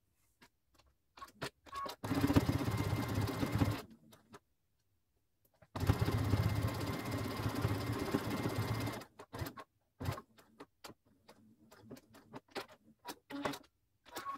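A sewing machine stitches leopard-print fabric for a handmade bag in two sustained, close-up runs of rapid mechanical whirring, each lasting a few seconds, separated by quiet pauses and followed by light ticks and handling clicks.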